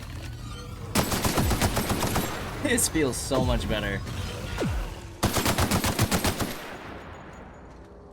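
Rapid bursts of gunfire from a gun in The Outer Worlds video game, two long loud volleys of repeated shots with a brief gap between them, while a player talks over the action.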